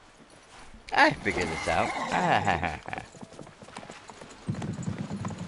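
Hooves clip-clop from a horse in a video game, a short rhythmic run under steady talk from a player, with quieter game sounds following.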